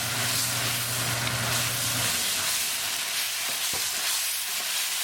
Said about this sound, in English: Now we need to cook tomato along with onion. So keep it moving and keep cooking.